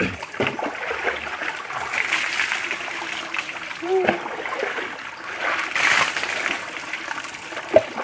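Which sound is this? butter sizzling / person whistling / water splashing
water splashing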